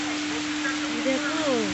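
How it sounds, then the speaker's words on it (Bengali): Heavy rain pours down as a steady, even hiss with a low constant hum beneath it, and a voice speaks briefly over it. "বাহ ভালো জোরে বৃষ্টি হচ্ছে তো"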